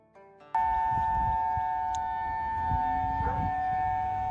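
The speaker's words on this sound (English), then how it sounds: "And I got this siren." A civil-defense-style siren sounds a steady, sustained wailing tone that starts abruptly after a brief lead-in of rising notes and holds at an even, loud level to the end, with faint background rumble and no voices.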